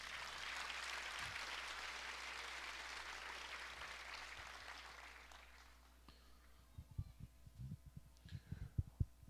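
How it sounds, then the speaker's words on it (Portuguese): Steady applause from a church congregation fills the first half, fading out, followed by silence and a few faint low thumps. "Agora você pode dar uma salva de palmas para o Senhor."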